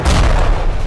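Explosion in the video game Ravenfield: a loud, close, rumbling boom filling the whole moment with a heavy low roar.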